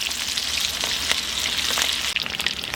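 Chicken 65 leg pieces frying in oil and masala, village style, a loud, dense crackling sizzle that runs steadily throughout with a few sharper pops and spatters.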